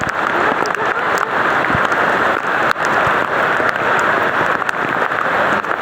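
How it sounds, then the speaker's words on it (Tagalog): Heavy, unbroken rain pours down during a flood, a dense, loud hiss of drops striking water and surfaces that runs steadily throughout with no pause. "Grabe yung ulan. Wala pang"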